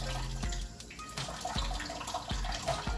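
A few teaspoons of water poured and dribbled onto sugar and cocoa powder in a kitchen, small splashes and trickles close up with brief thuds between pours.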